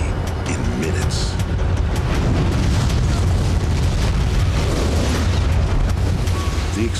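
A volcanic eruption explosion rendered as a deep, continuous roaring boom, dense and loud throughout with heavy low rumble and crackling texture, sustained without letup.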